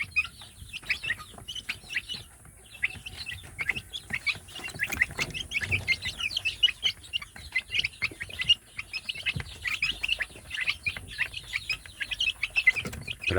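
A group of young village chicks (anak ayam kampung) peep and cheep continuously, many high, rapid chirps overlapping at close range, with faint rustling underneath and no voices.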